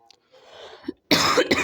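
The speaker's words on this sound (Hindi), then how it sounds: "खांसी आ रही है थोड़ी" A person coughs during an ancient history lesson, with a faint throat sound followed by one loud, harsh cough burst and a short second burst, heard close and without speech.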